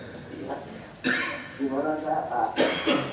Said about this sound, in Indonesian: Batuk barusan